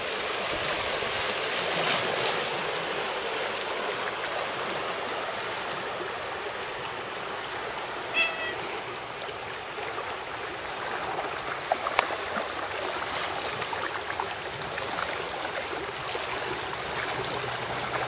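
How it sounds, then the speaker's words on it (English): A tsunami surge pushes up a river in Gisborne, reversing its flow: a steady broadband wash of rushing water, moderately loud and continuous throughout, with occasional faint knocks and no voices. "So it's completely reversed the flow of river."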